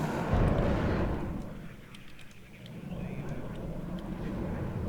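A fighter jet in the Warno strategy game roars past with a broad, rumbling whoosh, loud at first, dipping midway, then swelling again, alongside faint game effects.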